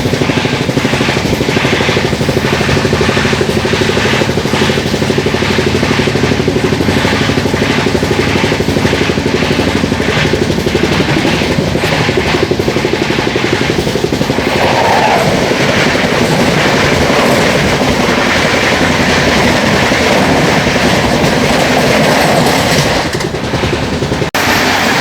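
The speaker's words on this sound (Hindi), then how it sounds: "चलिए अभी हमारी क्रॉसिंग होने वाली है रानी कमलापति हज़रत निज़ामुद्दीन से सुपरफास्ट एक्सप्रेस।" Rani Kamlapati–Hazrat Nizamuddin superfast express train passing close by, a loud continuous roar with rapid clickety-clack of wheels over rail joints, heard from a moving train for the whole stretch.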